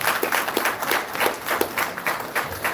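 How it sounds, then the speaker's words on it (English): A small audience at a community meeting about saving Jefferson County gives a round of applause, moderate uneven clapping with distinct individual claps, nearby and without speech. "let's give them all a big round of applause."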